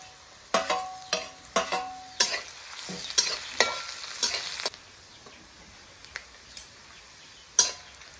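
Onion, garlic and ginger frying in a pan for a taro-flower and meat dish, with a series of sharp, close scraping stirs over a steady sizzle before it settles to a quieter hiss with a few light clinks.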